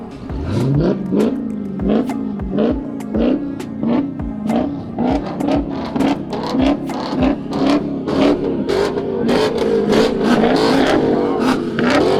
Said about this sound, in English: There's a Dodge Challenger now, an EcoBoost Mustang. Very loud though.